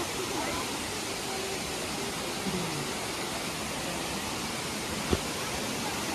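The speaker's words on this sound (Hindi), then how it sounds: "देखो पानी की आवाज़ सुनो, पानी की," Steady broadband roar of rushing water at Dudhsagar waterfall in Goa, a constant dense wash with no clear breaks, with one brief sharp knock near the end.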